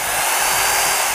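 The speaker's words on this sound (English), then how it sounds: "You just need to drill your holes" A power drill with a 1/4- to 3/8-inch bit bores holes in an untreated wood block, a continuous loud whirring that holds steady without pause.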